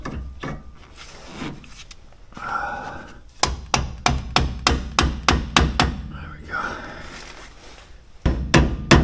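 Hammer blows ring out while a sway bar is fitted to a Jeep XJ, about a dozen sharp, loud metallic strikes in a steady rhythm, with a brief pause before a final cluster, set against quieter shop noise and some rustling.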